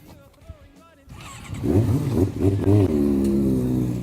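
Motorcycle riding on a race track, its engine rising into a loud, close revving drone with shifting pitch after a quieter opening with talk.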